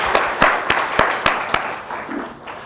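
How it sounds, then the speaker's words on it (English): Conference audience at a global tourism forum's opening ceremony applauds a musician: a dense, fairly loud wash of many hands clapping with a few sharper claps standing out, thinning and fading toward the end. "Let's give him another round of applause to encourage him."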